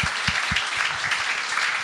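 Applause from a studio audience at a Quebec podcast taping, a brief burst of many hands clapping with a few heavier, closer claps near the start.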